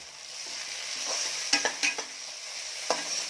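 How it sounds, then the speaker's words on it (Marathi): Onion and tomato frying in a pan for a Kolhapuri mutton dish: a close, steady sizzle with a few quick spoon scrapes and taps against the pan. "आता यामध्ये मी टाकत आहे टोमॅटो"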